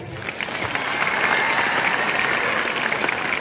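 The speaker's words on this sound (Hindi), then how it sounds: "आज का ये दिन, ताली मिलेगी क्या थोड़ी सी?" Audience applause at a school's Children's Day celebration, a dense, steady wash of clapping that builds quickly and holds loud for several seconds, filling the hall.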